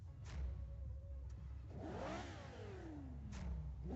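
A 605-horsepower 5.7-liter V8 rear-wheel-drive car in Forza Horizon 3 revs hard, rising and falling in sweeping pitch over a steady low rumble, loud and close with no talking.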